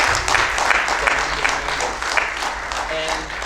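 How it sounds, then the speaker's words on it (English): An audience at a community conversation event claps loudly and continuously, a dense even roar of hands with a low background hum and brief voices mixed in. "I want to really ask for a round of applause for this."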